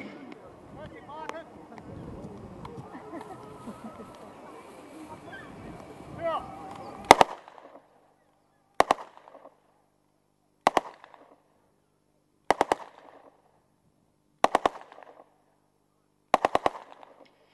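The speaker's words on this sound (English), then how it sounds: "You'll also notice with the MP38 that during firing, the weapon naturally pulled to the right-hand side." An MP38 submachine gun is fired at Dover Castle: after several seconds of busy, voice-like background noise, six loud, sharp reports ring out one at a time about two seconds apart, each with a brief echo, with silence between them.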